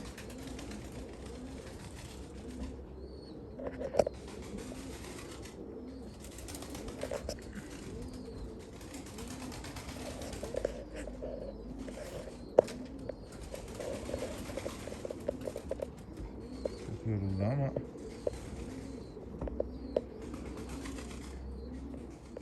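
Pigeons cooing at a loft, soft repeated throaty coos overlapping at close range with occasional wing flutters and small clicks, no talk.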